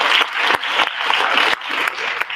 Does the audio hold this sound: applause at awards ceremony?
yes